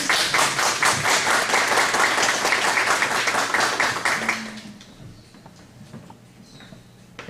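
Audience applause welcoming the speaker at a spiritist society lecture, dense clapping from a roomful of people for about four seconds, then fading into quiet room tone.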